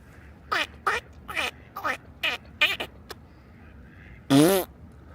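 A series of short quacking duck calls, about eight in an irregular run, followed by a louder, longer quack near the end, heard fairly close outdoors in snowy Manhattan.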